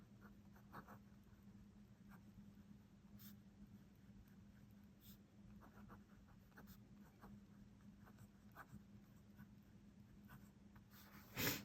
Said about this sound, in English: let's start writing, shall we?